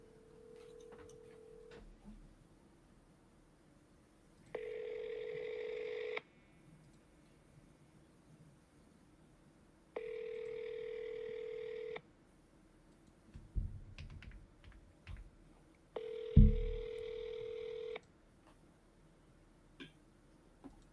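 An outgoing phone call sounds a ringback tone three times in an even pattern, each ring lasting about two seconds with quiet gaps between, after brief faint dialing-like ticks.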